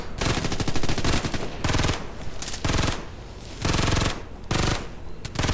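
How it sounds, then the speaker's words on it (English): Sustained fixed-gunner machine gun fire in the shooter game Ghost Recon Future Soldier, loud continuous bursts of rapid shots that pause and resume several times, with dense overlapping gunfire throughout. "but I heard another fixed gunner down the way."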